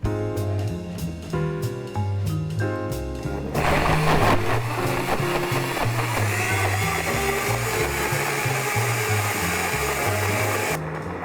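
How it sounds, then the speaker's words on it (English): A blender whirs loudly and steadily as it blends a whey protein ice cream mix to a smoothie consistency, starting abruptly after a short stretch of music and running continuously near the microphone. "We're going to blend this until it's the consistency of a smoothie."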